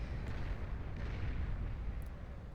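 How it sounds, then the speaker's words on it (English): A base explodes under artillery fire in the Beyond All Reason strategy game as a dull, continuous rumbling blast with faint crackling bursts, moderately loud and steady throughout, with no voices over it. "Boom goes the base here of our Seafoam Green Commander."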